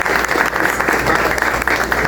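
An audience at a colloquium on religious intolerance at Parque Madureira applauds for Wallace, a steady, dense wash of many hands clapping close by, with no one talking over it.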